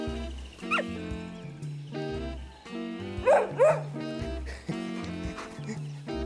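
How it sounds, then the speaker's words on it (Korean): A puppy at an outdoor campsite gives short, high yips and barks over steady background music, a few scattered bursts at moderate volume. "아, 강아지야."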